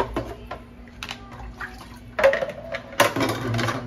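Water runs and splashes in irregular bursts while live tiger prawns are rinsed, with faint clattering and a louder pour near the end.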